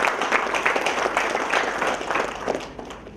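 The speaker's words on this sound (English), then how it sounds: "give him a very big round of applause" Audience of students applauding at a veterinary college orientation programme, a dense, steady round of clapping from a large indoor crowd, sustained throughout.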